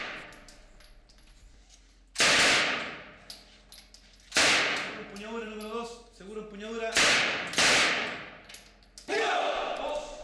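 Four loud, sharp gunshots ring out at irregular intervals during Chilean police shooting practice, each with a short echoing tail, while a voice talks between them.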